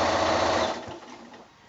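A sewing machine runs steadily while stitching rows on a quilted shoulder bag, then winds down and fades out after the first second.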